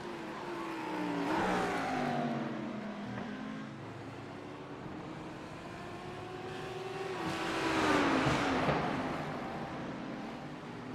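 Lamborghini GT3 race cars roar through a sim racing game at Watkins Glen, engines revving and shifting with rising and falling pitch as two cars run close together, a moderate steady drone with no talk.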